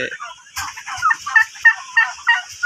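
Turkeys on a farm flock of toms and hens gobble loudly and close, a rapid run of rattling, repeated gobbles pulsing in quick bursts one after another.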